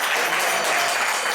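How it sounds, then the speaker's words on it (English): Steady clapping from a temple congregation gathered for a guru remembrance ceremony, dense and continuous at close range with no talking over it. "Let's give a round of applause."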